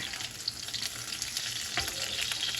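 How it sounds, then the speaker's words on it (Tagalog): Fish sizzles and crackles steadily in a frying pan, a dense hiss of oil with small pops throughout, close and fairly loud, no talking. "Bale na prito na po natin itong ating isda"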